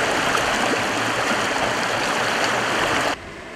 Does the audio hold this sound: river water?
yes